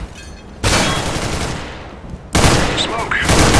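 Gunfire from the video game Counter-Strike: Global Offensive, two loud bursts of rapid shots with a brief lull between them, close and harsh, with faint in-game sounds behind.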